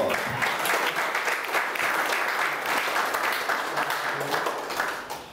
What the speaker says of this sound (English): Let's give Rusty a personal round of applause.